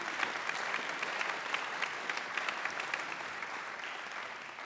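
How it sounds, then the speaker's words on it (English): Steady, even applause from a concert audience for high school band students at a fall school concert, a continuous dense patter of many hands sustained throughout at moderate loudness. "So a round of applause also for our students for all the hard work that they put in so far."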